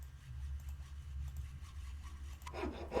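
Sawing in a Nancy Drew video game, Treasure in the Royal Tower: faint rhythmic saw strokes over a low hum, ending in a louder rasping burst.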